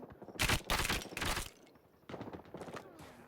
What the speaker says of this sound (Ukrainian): Черги по два постріли.